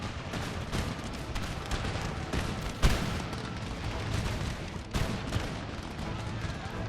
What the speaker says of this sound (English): Oh, the cannon fire.